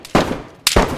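Two sharp gunshots ring out about half a second apart in the survival video game DayZ Standalone, loud and close, each with a brief decaying tail.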